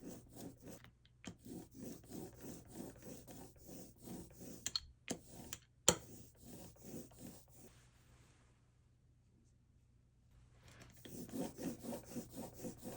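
Gold water-soluble block printing ink being rolled out on an inking surface with a brayer, a steady rhythmic rasping back-and-forth that pauses briefly, fades to near silence, then resumes.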